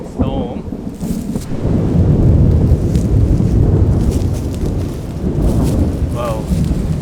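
Loud, rolling thunder from an approaching storm during a 4x4 camping trip near Port Macquarie and Kempsey, a long sustained rumble with rain noise, close and heavy, with brief voices in places.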